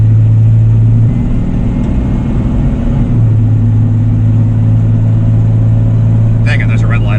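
Car engine at a light 10% throttle, holding a steady low hum with a brief pitch rise around the first second, rumbling close and continuous, with a short voice-like burst near the end.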